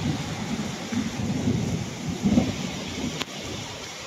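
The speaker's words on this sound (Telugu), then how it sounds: "పెద్ద పెద్ద ఉరువులు" Thunder rolls in a low, drawn-out rumble during heavy rain in Kuwait, with a continuous rain hiss underneath and the rumble swelling briefly midway.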